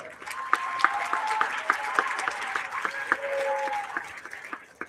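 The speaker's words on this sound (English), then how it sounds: "let's give a round of applause" Round of applause for volunteers at a tournament opening ceremony, moderate clapping from a gathered crowd with individual claps audible, swelling in the middle and fading toward the end.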